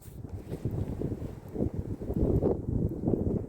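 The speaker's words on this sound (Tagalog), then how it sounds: "Malamig kasi, mahangin." Cold wind gusts across a frozen beach by the sea at Britannia Beach in the late afternoon, a close, rough buffeting roar that swells and dips.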